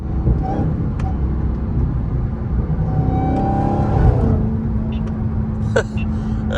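Supercharged Dodge Hellcat at high revs in morning traffic, recorded from inside the car: a rising, sweeping supercharger whine over a heavy engine rumble, then a steady held tone as the throttle eases off.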